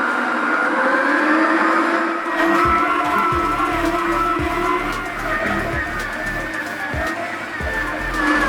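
A stand mixer running at its lowest speed while kneading donut dough: after a quieter start, a steady loud motor whine sets in, with rhythmic low thumps of the dough turning in the bowl.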